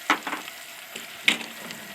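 Butter sizzling in a pan with generous Creole seasoning added, a soft steady frying hiss broken by a few sharp crackles and pops, close and with no voices.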